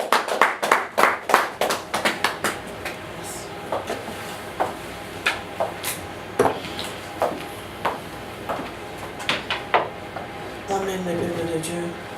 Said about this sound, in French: tu vas acclamer très fort pour la gloire de Dieu